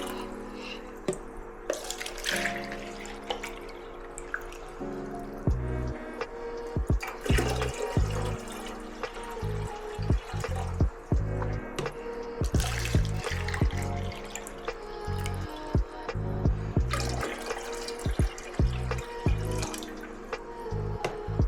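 Water is poured from a juice container into a 5-gallon aquarium, in gurgling, splashing bursts that start and stop repeatedly, with drips and trickles between pours.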